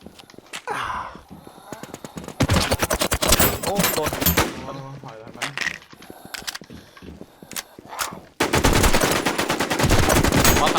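Rapid automatic gunfire in the online battle royale shooter NewZ, loud close bursts of machine-gun fire alternating with shorter single shots and mechanical clatter, with a player's voice briefly heard between volleys.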